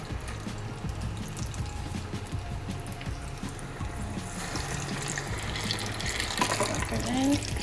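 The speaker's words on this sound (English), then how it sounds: "Rinse out your scooper." Running tap water rinses a scooper at a sink while preparing tatale, a steady close stream of water with clatter and faint talk underneath.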